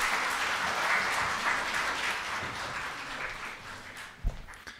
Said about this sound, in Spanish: Un fuerte aplauso para ustedes y también para nuestro ponente